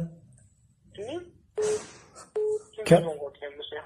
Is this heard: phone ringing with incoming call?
yes